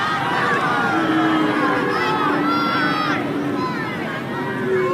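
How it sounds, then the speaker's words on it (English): Football stadium crowd at a women's W-League semi-final, Canberra United against Melbourne City, a steady noisy roar with rising whistles and shouts under commentary. "Crowd perhaps calling for a whistle"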